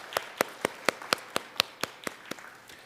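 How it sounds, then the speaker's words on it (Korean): A church congregation at a Sunday service claps to welcome first-time visitors: about a dozen crisp, evenly spaced claps at a brisk steady rhythm, close and clear, tapering slightly in loudness at the end. "우리 한번 박수로 환영하도록 하겠습니다"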